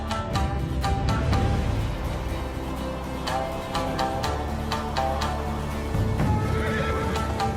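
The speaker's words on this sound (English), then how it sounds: "Oh my god, horses" Horses neigh and whinny repeatedly in a video game trailer, with clip-clop hoofbeats running beneath the calls. The sound is clear, fairly loud and continuous throughout.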